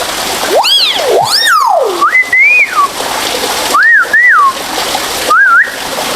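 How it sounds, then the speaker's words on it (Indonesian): Two pet hill mynas whistle close and loud, with rising and falling notes and short warbling phrases separated by brief pauses. "Ya, ini ada 2 beo saya ya."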